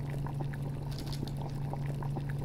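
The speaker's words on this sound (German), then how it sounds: "Und davon könnte ich mir jetzt auch direkt noch 2 Stück abkochen" Healing herbs boil over a fire in the survival game Subsistence, giving a steady, soft bubbling over a constant low hum, close by and uninterrupted with no voices.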